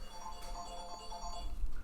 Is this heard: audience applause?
no